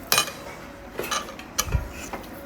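A spoon stirring wrap filling with finely chopped coriander in a pan, giving four light metallic clinks and scrapes at irregular intervals, close and fairly quiet.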